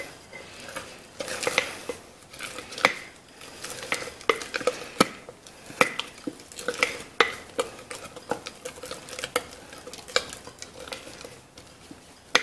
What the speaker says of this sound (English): So I'm gonna get this stirred up.